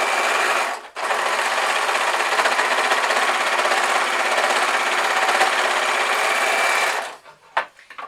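An overlocker runs steadily and close for about six seconds, stitching a fleece beanie band, then stops and is followed by a few small clicks and handling noises.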